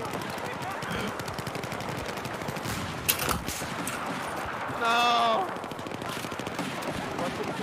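Rapid Battlefield 4 gunfire crackles steadily under excited talking, with a sharp louder burst partway through and a short shout.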